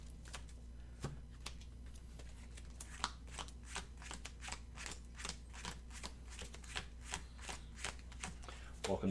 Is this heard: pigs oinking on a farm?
no